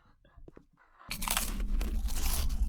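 A monster in the indie horror game Into Darkness crunches on a chicken: after a brief quiet stretch with a few soft sounds, a loud, wet, crackling bite and chewing burst in and continue to the end.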